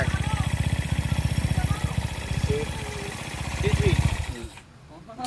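Overhauled and upgraded Easyride 150N motorcycle engine with cam, big bore and 61mm setup running at a steady throbbing idle, close and loud, with someone talking over it before it cuts off near the end.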